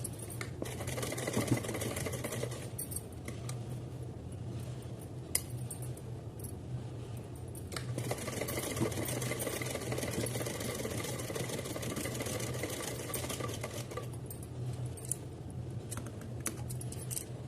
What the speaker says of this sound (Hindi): जहाँ चोली है वहाँ हम डबल सिलाई लगा लेते हैं।